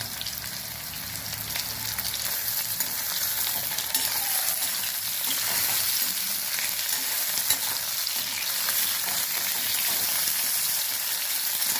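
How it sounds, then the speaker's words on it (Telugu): Potato pieces fry in a pan for a palak potato curry, giving a steady, dense sizzle that runs close and unbroken for the whole stretch, with a few faint scrapes of stirring. "దోరగా వేపుకొని ఓ పక్కన పెట్టుకోవాలి కదా చూద్దాం"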